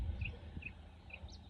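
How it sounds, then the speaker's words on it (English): Birds chirping outside a Walmart Neighborhood Market in Weslaco, Texas: a few short, high, bright chirps at intervals over a faint low outdoor rumble. "Listening to the birds, just like right here"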